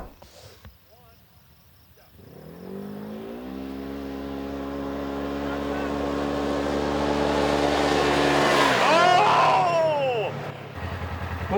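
Off-road vehicle in high gear with four-wheel drive engaged accelerates hard, its engine note climbing steadily in pitch and growing louder over several seconds before easing off, with faint background noise and a brief voice near the end.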